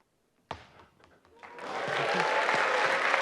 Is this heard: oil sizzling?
no